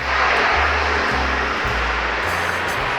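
The engine of a Stinson 108-3 Voyager aircraft roars as a loud, continuous propeller drone with a low, pulsing throb and a broad rushing wash, heard close and alone.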